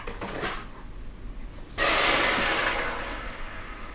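Water gushes into a pot for boiling pasta in a home kitchen, starting abruptly as a loud steady splashing pour after quieter room noise and gradually softening.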